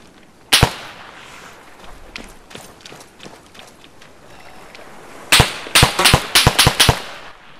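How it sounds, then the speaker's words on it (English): Gunfire in the video game Arma 3 in a snowy outdoor setting: one sharp, close crack, then after a quiet stretch a rapid burst of loud, closely spaced shots. "under fire!"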